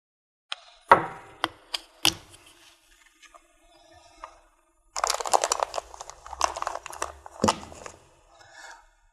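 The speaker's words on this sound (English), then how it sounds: "we will put the end of the cable 50 millimeters from the end, and we just cut the outer insulation" A blade cuts through the outer insulation of an RF cable, 50 millimetres from its end. Close, sharp crunches and clicks come first, then a longer stretch of rough crackling scraping with a few separate snaps. No one speaks.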